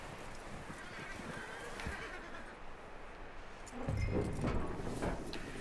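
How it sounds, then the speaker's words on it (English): A horse in Red Dead Redemption 2 shifting and clopping nearby, with muffled hoof thuds and movement that grow louder toward the end, faint voices underneath. "That looks like a decent horse. You should keep him."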